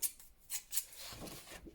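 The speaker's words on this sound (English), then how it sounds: "if I get my scissors and I fussy cut" Three or four quick snips of scissors fussy cutting paper stamps, crisp and close, followed by softer rustling.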